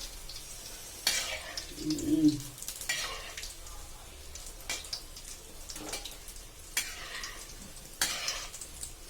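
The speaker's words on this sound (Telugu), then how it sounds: "ఇలా డీప్ ఫ్రై చేసుకోవాలి" Paneer cubes for manchurian deep-fry in oil with a soft bubbling hiss, broken by several sharp stirring scrapes and a brief murmur early on.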